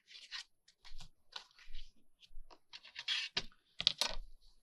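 A greeting card is cut up into tag pieces with scattered, irregular snips and crisp paper rustles, close and fairly quiet, with short pauses between the bursts.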